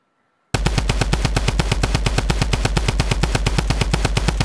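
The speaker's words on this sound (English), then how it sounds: "if you're trying to shoot out a big tree, it takes about 10 seconds" A drum gun in a video game fires at a tree in a long, rapid, evenly spaced stream of loud shots that starts abruptly after a brief silence and runs without pause, with no talking.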